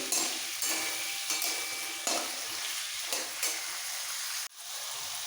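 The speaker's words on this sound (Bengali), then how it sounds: "এই সবজিগুলো যেহেতু একটু শক্ত আগে ভেজে নিচ্ছি ভালো করে তিনটেই" Firm vegetables for a coconut sukto sizzle in a hot pan, with several stirring scrapes breaking through the steady hiss before a brief drop near the end.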